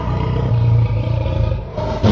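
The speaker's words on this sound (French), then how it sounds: "Vite, il corrigea son erreur en donnant ce rugissement terrible au lion." A deep, sustained lion roar rumbles loudly and close for about two seconds, rough and growling throughout, as part of a children's Christmas story about Father Christmas.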